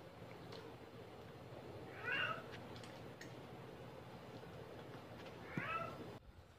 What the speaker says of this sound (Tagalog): ito yung mga inaalagaan kong mga pusa at aso rito